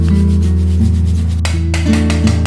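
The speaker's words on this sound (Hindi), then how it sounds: "इस टाइम में छलनियों को साफ़ कर लूँगी" Stiff brush scrubbing soaked kitchen sieves, a steady close rasping rub with strokes running continuously, a brief brighter scraping burst partway through.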